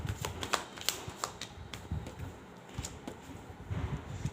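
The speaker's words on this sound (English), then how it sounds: "I'm going to shuffle it again." Tarot cards being shuffled in a steady run of soft, rapid riffling flicks, close and fairly quiet, with no voices.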